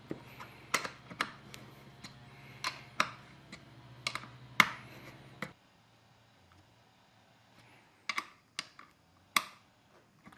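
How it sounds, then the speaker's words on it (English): Clicks and taps of a 6mm Allen key tightening bolts on a 4WD side awning's mounting brackets, close and sharp in short bursts with a quiet gap in the middle. "So these are just 6mm Allen keys, so just tighten these down now we've got them aligned."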